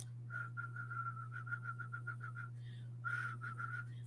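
A man whistles a rapid run of short, repeated pips, a dozen quick notes in a row, then a brief pause and a second burst, thin and close over a steady low hum.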